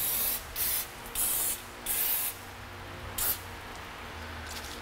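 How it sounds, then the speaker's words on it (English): Rust protectant sprayed onto exposed parts of a Honda Element's suspension during a rebuild, in several short hissing bursts of varying length separated by pauses, close and fairly loud. "Clean up this grease, put some rust protectant on the areas that are exposed."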